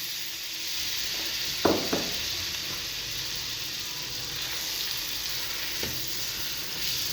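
Butter melts in a kadai over the flame, giving a soft, steady sizzle with a couple of sharp clinks close together early on and another faint knock later.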